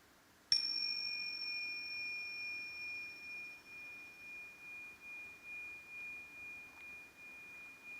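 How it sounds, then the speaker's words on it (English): Mindfulness session bell struck once to close a practice, a clear ringing tone that sustains and slowly fades with a gentle pulsing decay over quiet background. "And when the bell goes, you can bring yourself back to the group when you're ready."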